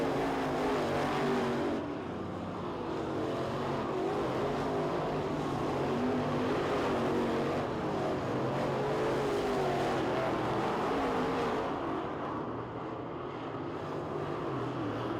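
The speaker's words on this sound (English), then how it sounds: "Burnside about to go a lap down here through turns 1 and 2 to your race-long leader, Jason Welshon." Dirt track race cars at the Winter Nationals B-Mains roar steadily through turns one and two, a continuous loud engine drone with shifting pitch as the pack passes, heard alone without talk.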